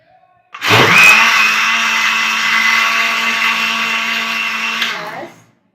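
A kitchen blender whirs an orange and yogurt smoothie with sugar and cream, starting abruptly, running loud and high-pitched for about four seconds, then cutting off, close by and alone.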